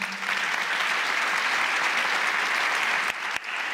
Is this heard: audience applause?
yes